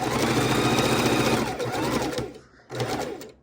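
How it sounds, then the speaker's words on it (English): A sewing machine threaded with red thread runs steadily, stitching around a Christmas mitten, then pauses briefly before starting again for a short burst. "sew it all the way around. We have red thread in the machine."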